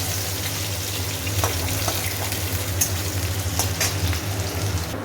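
Fish frying in a pan of oil gives a fairly faint, continuous sizzle with scattered crackles and pops, and no talking.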